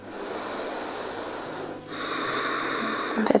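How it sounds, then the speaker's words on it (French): Ujjayi breathing during a hatha yoga session, air drawn through the back of the throat in long, steady, hissing breaths, with a brief pause between two drawn-out passes. "Faites passer l'air dans l'arrière de votre gorge pour recréer un son."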